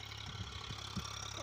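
Tractor engine on a farm running at a low, steady idle-like rumble with a few soft knocking pulses, fairly faint and distant, no voices.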